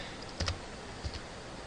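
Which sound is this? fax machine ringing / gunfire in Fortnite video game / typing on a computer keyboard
typing on a computer keyboard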